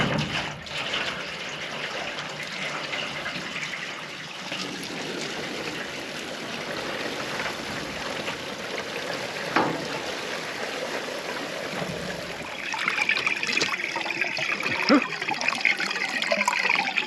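Water from a 5-gallon bucket trickles and gurgles into an auto-filling chicken waterer on a mobile coop, a soft steady pour that swells louder in the final seconds, heard close and alone.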